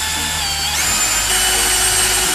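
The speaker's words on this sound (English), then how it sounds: "adorable little drill that I found in the garage that we're going to use to open up the hole" A small power drill whines loudly and continuously while boring a hole in a light fixture, its pitch shifting slightly as it bites into metal, with no talking.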